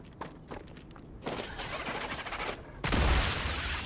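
Mortar rounds fire in the video game StarRupture: a few short, sharp thumps at first, then a dense, loud rumbling barrage of booming blasts that builds toward the end.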